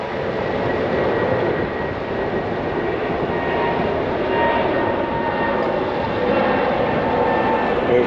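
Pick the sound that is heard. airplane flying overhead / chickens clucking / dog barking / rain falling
airplane flying overhead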